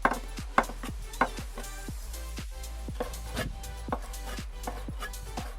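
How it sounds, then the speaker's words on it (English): A knife chops crushed spring roll filling on a cutting board in quick, regular strokes, each a crisp close knock, with no talk. "you can just like crush it a little bit, not completely, just a little bit, and then you chop it out"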